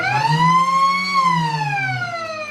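A loud, sustained half-time siren at a country football league grand final wails with a slow rising then falling pitch, dominating the crowd noise beneath.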